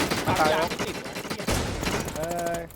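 Rapid bursts of gunfire in the shooter game Infestation Sea, sharp repeated shots mixed with excited shouting voices throughout.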